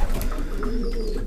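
Young pigeons coo in a short, close, continuous murmur, soft throaty calls filling the moment with no voices.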